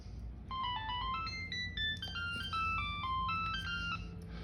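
An incoming call on a Multicell handset rings with a bright electronic melody of quick stepped tones. The tune repeats several times, clear and close, with a faint hum beneath it.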